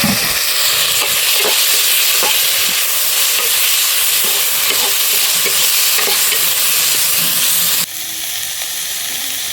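Garlic and tomatoes fry loudly in a pan for bottle gourd chutney, a steady close sizzle broken by scraping stirs that softens slightly near the end.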